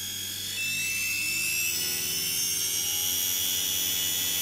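DC series wound motor under regenerative braking with supercapacitors, a steady loud high-pitched electric whine with a rising tone, continuous and close, with no talking.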